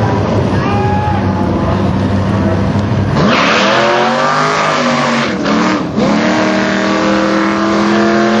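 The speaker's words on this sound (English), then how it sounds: "sprint car and a drag strip." A sprint car races on a drag strip, its engine loud and close, holding a steady high drone before a sharp shift at about three seconds into a deeper, rising roar with tyre-squeal edges.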